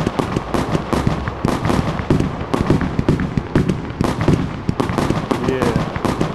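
Firestorm fireworks explode at a Fourth of July display, a rapid barrage of sharp bangs and crackles repeating throughout, loud and close.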